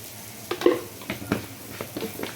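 A spoon stirring pepper mushroom gravy with chili powder in a frying pan, giving soft irregular scrapes and light sizzling, close and fairly quiet with no talk.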